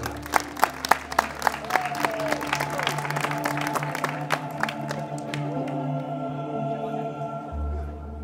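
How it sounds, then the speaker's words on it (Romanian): Wedding guests clap for the band in a burst of scattered applause that fades into band music and sustained tones. "aplauze pentru formație"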